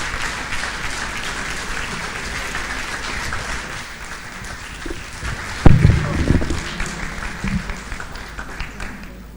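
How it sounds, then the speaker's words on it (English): An audience breaks into a short round of applause for a priest, with clapping rising suddenly partway through over a background of crowd murmur. "let's give another round of applause to Reverend Father."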